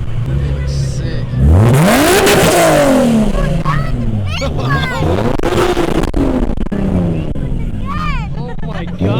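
Sports car engine revving hard at a car meet at Levi's Stadium, with a turbo, the revs climbing and falling in loud repeated surges up close while people talk excitedly over it.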